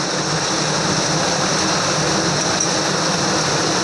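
Tempering spices crackle and hiss in hot oil for a chana dal amti, a loud, unbroken sizzle with no voices.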